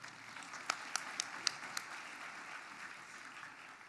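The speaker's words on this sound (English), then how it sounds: "you're free to applaud" Faint applause at a university graduation ceremony, a thin patter of clapping in a large hall with a handful of sharper, closer claps early on before it settles into a soft background wash.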